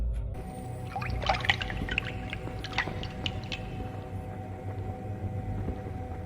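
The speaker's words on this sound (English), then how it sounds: "enter the door that triggers the sound of running water." Running water ambience from Prince of Persia: The Sands of Time (2003), a steady wash of flowing water with scattered splashy droplets, heard alone at moderate level throughout.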